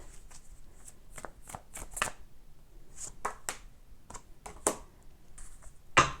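Tarot cards are shuffled by hand in a quiet room, giving a run of soft, irregular riffling flicks and snaps close to the microphone, with no talk.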